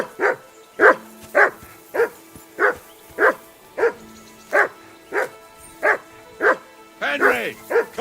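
Mutt the dog barks repeatedly at Henry in Kingdom Come: Deliverance 2, about a dozen close, loud, evenly spaced barks with a whining yelp at the end, and no speech.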